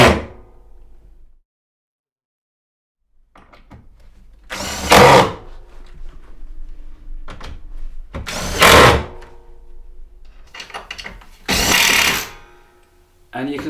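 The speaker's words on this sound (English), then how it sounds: "going to put those last 4 screws in to secure these 4 boards" A power drill drives screws through StoreFloor loft boards in an attic, three loud bursts of whirring spaced a few seconds apart, with quieter handling knocks and a voice in the gaps.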